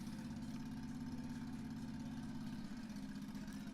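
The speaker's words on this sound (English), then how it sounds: "Also, sorry for the lawnmower in the background." A lawnmower engine drones steadily outside a window, a constant low mechanical hum at moderate distance that dips briefly near the end before carrying on.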